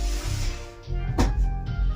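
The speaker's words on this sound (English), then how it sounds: "That's the coffee being made." A coffee maker brews with a low, close rumble and gurgle, broken by a brief burst of hiss midway, with no talking.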